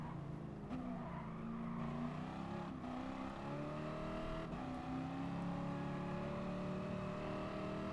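A Ferrari 512 BB in the Gran Turismo Sport racing game revs hard with a steady, loud engine drone whose pitch climbs and shifts, alone with no talk.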